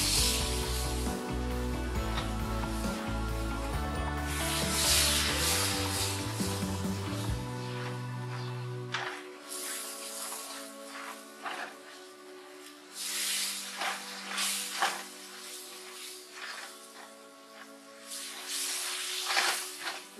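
Milk is poured bit by bit into gram flour roasting in a pan for mohanthal, raising a steady hiss and sizzle that swells in bursts, with background music in the first half.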